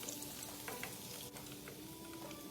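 Pork rib pieces deep-frying in hot oil, a soft, even sizzle and bubble that holds steady throughout, fairly quiet and heard alone without voices.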